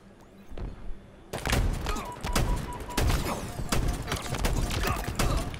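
Shotgun blasts in Halo Infinite multiplayer: a run of loud, sharp bursts that follow one another closely, with rapid thumping impacts and game noise filling the gaps.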